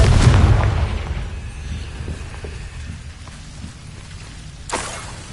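A Confringo spell detonates in the Hogwarts Legacy game: a loud, deep blast at the start decays into a rumbling, crackling tail, and a second, smaller burst hits near the end.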